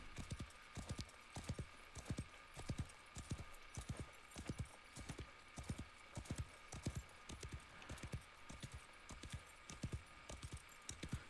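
A horse in the Wild West Online video game clip-clops at an unhurried, even pace, with steady hoof beats close and clear and no talking over them.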